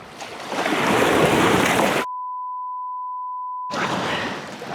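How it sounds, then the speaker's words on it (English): Broadband surf of waves breaking on a shore, a loud rushing wash for about two seconds, cut by a steady electronic tone before the roar of the water returns. "the next challenge is going to be potential breaking waves crashing onto the shore"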